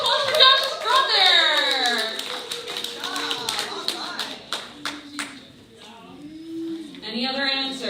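An audience at a school Veterans Day gathering claps steadily for a boy's brother who served in the Air Force, sharp hand claps mixed with children's excited voices and chatter close by.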